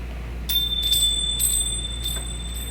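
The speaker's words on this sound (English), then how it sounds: "I want you to associate the sound of a bell" A meditation bell sounds with several clear, bright strikes spaced about half a second apart, each ringing with a sustained high tone over a quiet background hum.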